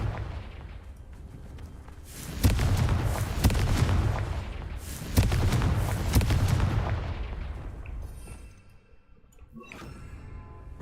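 Booming blasts from the Confringo blasting spell in the Hogwarts Legacy video game, two big rumbling explosions a few seconds apart, each rolling on and fading before crackling debris.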